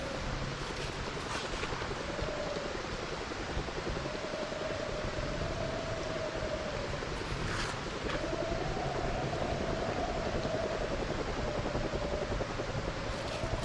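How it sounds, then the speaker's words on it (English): A helicopter circles nearby in the survival game Project Zomboid, a steady, rushing rotor drone that stays at an even loudness for the whole stretch, with no talk over it. "Chopper is still there for sure, though."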